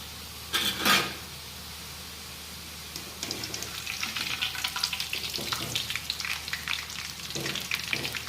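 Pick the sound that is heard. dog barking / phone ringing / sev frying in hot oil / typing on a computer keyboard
sev frying in hot oil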